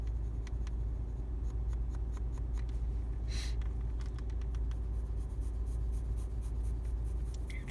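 Pencil lightly sketching on paper inside a parked car, a close run of soft scratchy strokes with short quick marks repeating throughout, no talking.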